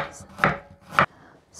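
An onion cut into quarters on a cutting board, two firm knife chops about half a second apart, close and crisp.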